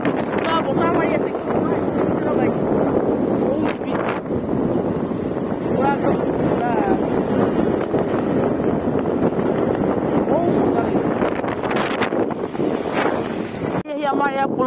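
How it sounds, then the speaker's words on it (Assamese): Strong wind blows across a river bridge, roaring and buffeting the microphone in a constant heavy rush with no pauses. "পুৰা বতাহ মাৰি আছে"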